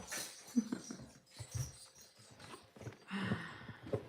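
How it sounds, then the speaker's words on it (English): Dogs moving in and out of a room indoors make soft, close snuffling, wheezy breaths and faint whimpers, mixed with light pattering and shuffling at a low, uneven level. "The dogs, they're in, they're out, they're in, they're out."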